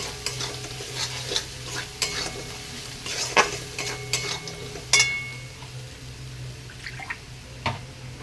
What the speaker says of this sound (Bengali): আর পরিমাণ মতো হলুদ আর দিয়ে দেবো জিরে লঙ্কা বাটাটা দিয়ে আবারও ভালো করে কষিয়ে নেব